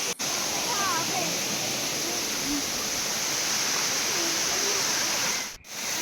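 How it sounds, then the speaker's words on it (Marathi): Steady roaring rush of a waterfall near Devrukh, Maharashtra, fills the whole clip, loud and constant, with a faint bird chirp early on. "देवळे धबधबा आणि हा परशुरामवाडीचा धबधबा"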